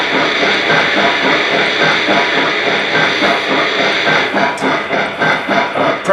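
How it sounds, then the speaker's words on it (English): Steam cylinder blowdown effect from a Lionel Legacy 2-10-4 model steam locomotive: a loud, steady hiss of venting steam over a rhythmic chuffing train sound, continuous and close throughout. "the steam cylinder blowdown effect, we can make that activate at any time by simply pressing aux 1"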